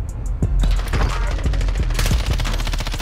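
Rapid automatic gunfire blasting through a wall in Call of Duty Warzone on Rebirth Island, a dense continuous stream of shots over a low rumble, loud and close, with a faint voice briefly under it.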